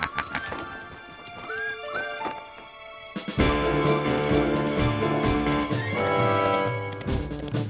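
Cartoon horse, a young stallion, whinnying and clip-clopping over a swelling orchestral score, with hoofbeats and neighs coming through loud and close.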